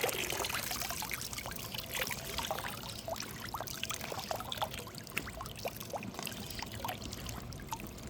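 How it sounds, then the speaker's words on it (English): Water pours and trickles steadily out of a solar pool heater panel being drained outdoors, a continuous close splashing flow with no talking. "I'm trying to let all the water out of it in case you're wondering what I'm doing."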